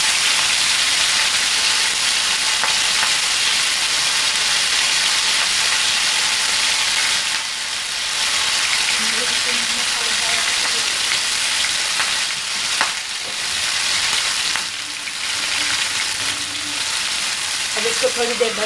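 Chicken tikka pieces fry in a pan over medium heat, giving a loud, steady sizzle that runs throughout with brief stirring shifts and no voice.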